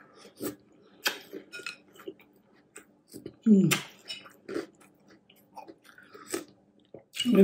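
Crunchy chewing of a holiday cereal in a mukbang: close, irregular crunches and bites, with a few louder munches and faint clinks of a spoon against the bowl, and quiet pauses between mouthfuls.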